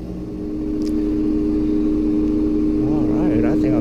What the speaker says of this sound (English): Step 8, looks like we have high speed spin.